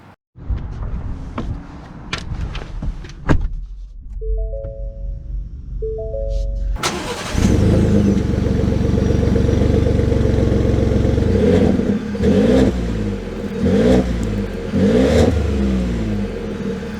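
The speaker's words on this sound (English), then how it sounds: "Let's take it out and see how it drives." A 2022 Ford F-150 Lariat pickup cranks and fires up loudly, settles into a steady idle, then revs and pulls away with rising engine surges, close and without talk.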